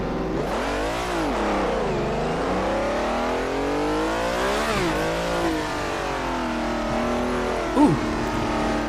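A V8 race car in the Assetto Corsa driving game revs up and down through several loud, continuous engine sweeps, with gear changes and a brief squeal near the end.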